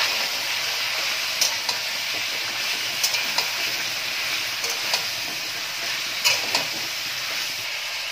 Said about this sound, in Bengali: এবার তেলটা গরম হয়ে গেছে, সবজিটা দিয়ে দিলাম